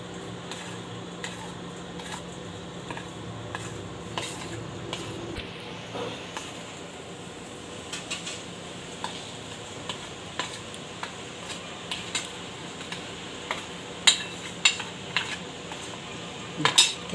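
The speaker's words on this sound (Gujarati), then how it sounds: "આને બધું મિક્સ કરી લેવું આપણે" A spoon scrapes and clinks against a bowl while harde and himej powder is mixed, with irregular tapping strikes throughout and a few louder knocks near the end, without any voices.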